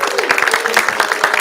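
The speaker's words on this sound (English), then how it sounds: "Let's give them a round of applause" An audience applauds at a family graduation livestream, a steady dense wash of clapping throughout the short moment.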